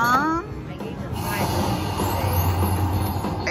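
The Cash Express feature on a Luxury Line slot machine plays a train sound effect, a rumbling rolling chug with a brief whistle-like tone at the start, loud and close over casino background noise.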